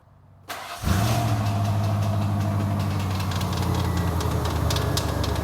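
An OBS Ford Bronco engine cranks briefly and catches, then settles into a loud, steady, close idle with a faint rhythmic knock running through it.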